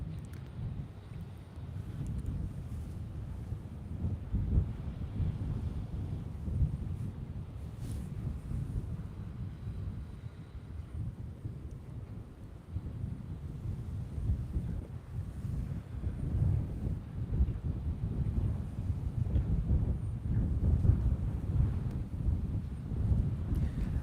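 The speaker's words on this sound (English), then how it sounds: "I'm having to hold the camera down so it doesn't move in the wind here." Steady wind buffeting a camera microphone on the dunes at Boca Chica, Texas, a continuous low rumbling roar that swells and eases for the whole stretch with no voices.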